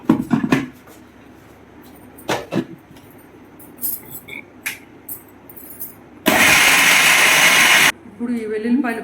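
A kitchen mixer grinder whirs loudly and steadily for about a second and a half as it grinds dry curry leaf powder with garlic cloves, set between quieter clatter and handling sounds.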